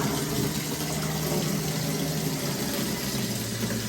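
Tap water runs steadily at a beach camping resort in Lobo, Batangas, a constant rushing hiss and splash that holds at one level throughout with no voices.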